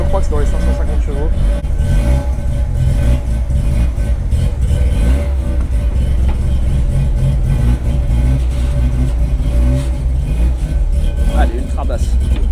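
Heavily modified Mazda RX-7 with a roughly 550-horsepower rotary engine, cold-starting on 100% ethanol, holds a loud, lumpy idle with rises in revs. Voices talk over the engine throughout.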